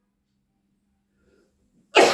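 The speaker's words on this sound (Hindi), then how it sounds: "थोड़ी खांसी चल रही है" A single sharp cough bursts out near the end after near silence, loud and close, from a man with a cold and sore throat.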